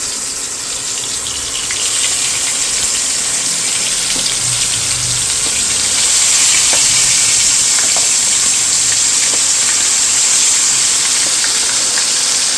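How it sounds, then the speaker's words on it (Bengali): Whole koi fish sizzling in hot oil, a steady dense hiss and crackle that runs continuously and grows slightly louder partway through, with no talking. "তেল গরম হয়ে গেছে এবার এক একটা একটা করে আমি মাছ"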